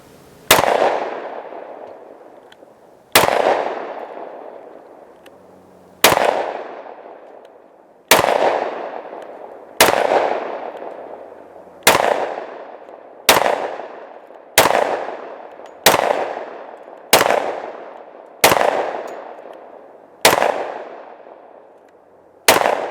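Twelve sharp, loud gunshots from an S&W M&P 2.0 10mm pistol firing Remington 180 grain rounds, each crack followed by a long decaying echo, spaced a second or two apart and quickening toward the middle.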